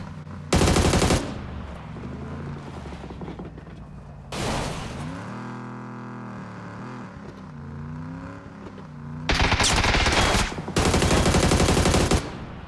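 Loud bursts of automatic gunfire from the PUBG video game, with a short burst near the start, another mid-clip and two heavy bursts near the end, separated by engine-like whirring.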